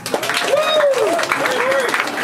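Comedy show audience applauds in a dense, steady round, with a voice rising and falling over the clapping.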